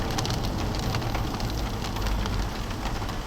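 Rain falls steadily during a storm chase in Missouri, a dense, continuous hiss and patter, loud and close, with no talking.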